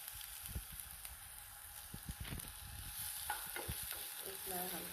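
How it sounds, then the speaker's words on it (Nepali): Cumin seeds and onion fry in hot oil and ghee while being stirred, a steady close sizzle with scattered clicks and scraping from the spoon, moderately quiet with no talking. "म सुरुमा जिरा फुराउँदैछु। जिरा सँगसँगै मैले प्याज पनि राखेँ।"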